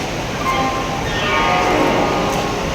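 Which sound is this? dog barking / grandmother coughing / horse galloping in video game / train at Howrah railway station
train at Howrah railway station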